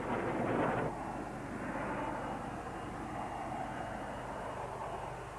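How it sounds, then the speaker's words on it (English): Two reconnaissance jets pass through at an air display, a Harrier demonstration at an international air tattoo, giving a broad, steady roar with a louder swell at the start before it settles into a sustained distant rumble. "2 reconnaissance aircraft fly through to assess the damage to the target."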